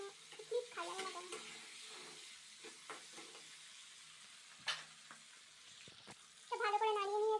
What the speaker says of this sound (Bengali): ভালো করে নাড়িয়ে নিয়েছি